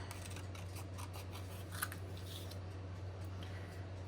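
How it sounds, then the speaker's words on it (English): Scissors snip through paper pieces for handmade mixed-media earrings, one faint soft cut audible over a steady low hum in a quiet room. "I will get ready to cut out my other two pieces."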